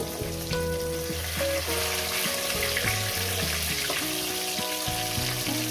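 Pieces of rohu fish fry in hot oil, a steady close crackling sizzle with soft stirring and clinking underneath, no talk.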